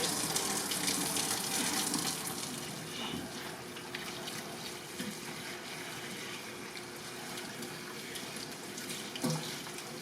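Cool water runs steadily from a tap while hair is rinsed, a continuous close splashing hiss with small irregular spatters and no talking.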